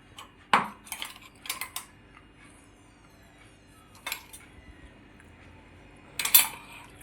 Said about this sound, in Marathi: अडीच चमचे टाकून घेतले मी.